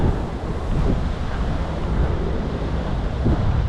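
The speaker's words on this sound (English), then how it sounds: "You can see the ocean, how it changes constantly." Ocean waves roll and wash ashore at Deer Island, with strong wind buffeting the microphone. The roar is loud, continuous and close, and there is no talking.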